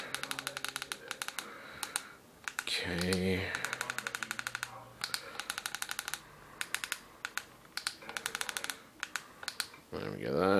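Fingers typing on a keyboard, rapid clusters of crisp, close key clicks in uneven bursts with short pauses, while someone talks over part of it.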